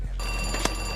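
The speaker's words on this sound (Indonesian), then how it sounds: "Panggilan telepon dari para polisi pun berdering." A telephone rings with a steady electronic bell tone as the police call in, starting just after a brief pause and continuing alone.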